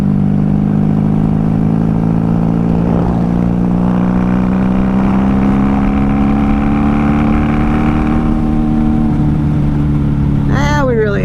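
A 1994 Honda Magna VF750C motorcycle engine pulls steadily in fifth gear, its pitch climbing slowly as it accelerates under constant wind noise, with a brief higher whine near the end.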